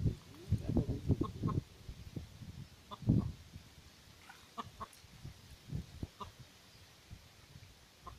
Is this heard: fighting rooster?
yes